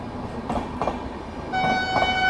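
The Delhi Pathankot Express pulling into an Indian railway station, a loud nearby rumble of the train with a horn blast sounding in the second half.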